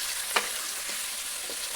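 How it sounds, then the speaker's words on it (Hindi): Chicken pieces frying in butter in a karahi, a low steady sizzle with a few soft stirring scrapes, fairly quiet and close with no talking. "आप चिकन को भी फ्राई कर लें।"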